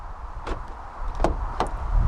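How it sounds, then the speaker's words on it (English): A few short, sharp clunks spaced apart as the doors of a 2014 Toyota RAV4 2.0 D-4D lock, close by and with no talking. "Press this ribbed area to lock it."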